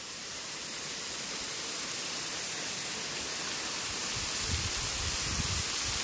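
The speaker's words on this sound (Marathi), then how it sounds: "हे बघा ह्यो बाबा वॉटरफॉल, बाबा वॉटरफॉल" Baba waterfall at Amboli roars as a dense, steady wash of falling water, loud and close, with no voices over it.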